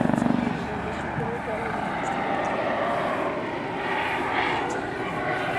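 Eurocopter EC 135 T2 helicopter with a fenestron tail fan at a Čáslav air base open day, a continuous broad rotor and turbine roar that stays steady and fairly loud throughout.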